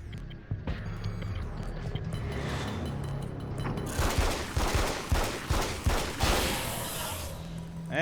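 Gunfire in the action game Alan Wake's American Nightmare, a series of sharp shots cracking in an irregular rhythm over mechanical clatter, growing denser and louder in the second half.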